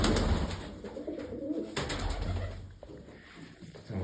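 Domestic pigeons released from a loft, coos and a burst of wing flapping close by, with the birds settling into softer cooing afterward.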